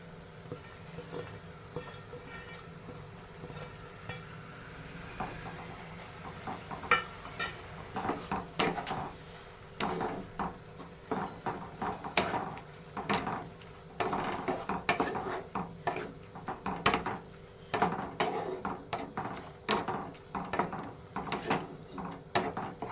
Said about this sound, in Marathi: हे असं हलवून घ्यायचं चांगलं मस्तपैकी हलवून घेतलं